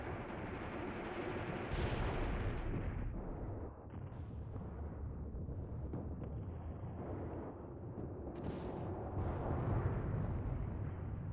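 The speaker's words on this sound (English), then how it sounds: "Are these guys taking mortar fire?" Mortar fire in the WWII strategy video game Mius Front rumbles as a dense, low wash of distant explosions and booming impacts, steady throughout with a few sharper crashes.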